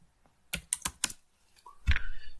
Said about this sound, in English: You just have to open the terminal and search, like you have to just type this command yarn build.